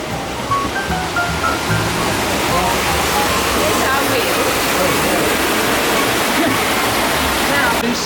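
Water rushes onto a water wheel in a loud, steady, broadband roar that continues without a break for about eight seconds.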